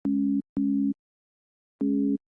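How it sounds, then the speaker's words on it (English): A synthesizer sine wave loaded on an oscillator for a bass layer plays as three short, pure, steady tones, two identical notes then a slightly richer one after a pause, clean and alone. "we're going to load a sine wave on oscillator A"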